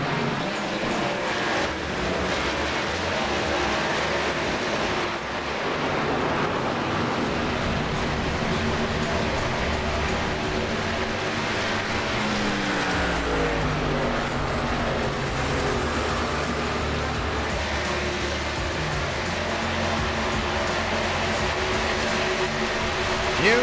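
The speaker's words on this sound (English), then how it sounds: "It's the thundering roar of a Gen 4." A Gen 4 NASCAR stock car roars at North Wilkesboro Speedway in the iRacing game, a loud continuous engine drone that rises and falls in pitch as it laps, with faint talk underneath.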